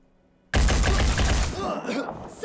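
An Ares AR-1 assault rifle in the video game Phoenix Point fires a six-bullet burst: loud, rapid overlapping shots that break sharply out of near silence, followed by a long, dense, crackling tail of impacts and effects.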